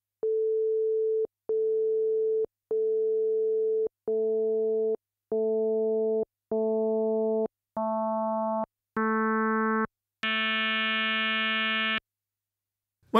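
Yamaha DX7 FM synthesizer sustains a series of steady tones, each note growing brighter and richer in overtones as a modulating operator is turned up against the carrier, ending on a buzzy, bright tone; no talking.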